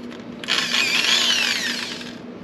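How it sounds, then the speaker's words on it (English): A power drill with a 3/16 inch bit boring bridge pin holes in wood, a single loud whining burst of about two seconds over a low steady hum. "So I'm going to use a 3/16 of an inch bit here."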